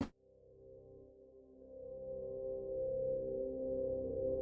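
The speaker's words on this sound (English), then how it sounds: "you can just hear what this sounds like with some reverb" A sustained synth tone sampled in Cardinal and run through reverb follows a short sharp attack, swelling into a rich, droning chord that grows slightly louder and lingers smoothly throughout.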